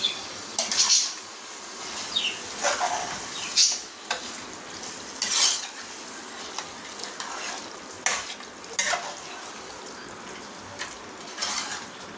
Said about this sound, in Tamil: நல்லா பரட்டிக்கலாம்.